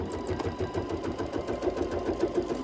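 A sewing machine runs steadily, stitching heavy thick yarn down onto a wool pumpkin with a continuous close whirring hum.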